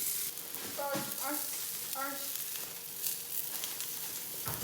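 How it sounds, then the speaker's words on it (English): Butter sizzles softly in a frying pan ahead of cooking eggs, a faint steady crackle with a few clinks of a utensil while a person talks briefly over it. "put the butter in the pan, ready to get the eggs started"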